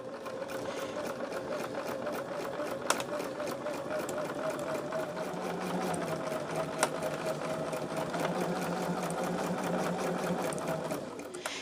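A sewing machine runs continuously, stitching a quarter-inch seam on a charm tote, giving a steady, close mechanical whir with faint background voice at times.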